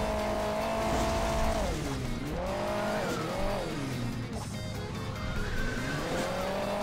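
A spinning car in Hill Climb Racing 2 drives with a steady engine drone whose pitch dips and swoops as it revs and flips, over a continuous game backdrop.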